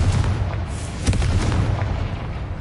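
Bombarda and Confringo spells in the Hogwarts Legacy video game burst in loud, rumbling explosions, with booming blasts rolling continuously for a few seconds.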